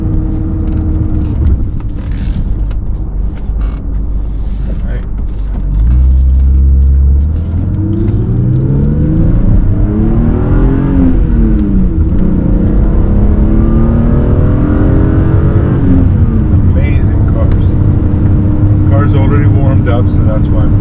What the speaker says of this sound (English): Fourth gear. It just flies through the gears.